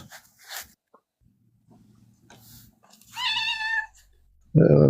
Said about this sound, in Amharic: ድመትን